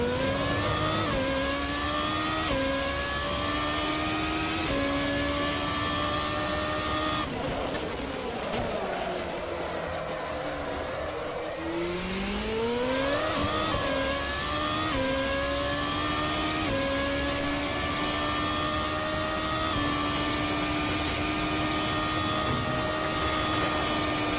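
A 2014 FC2 race car at Spa Francorchamps in Assetto Corsa screams through repeated upshifts. The engine dips as it brakes for the bus stop chicane, then climbs hard again under power, loud and steady throughout.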